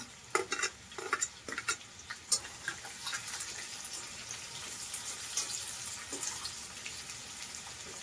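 Onion sautéing in a pan for a potato and green pea curry, with a scraping stir and clink at first, then a steady soft sizzle that fades in and out.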